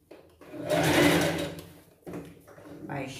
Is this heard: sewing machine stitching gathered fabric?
yes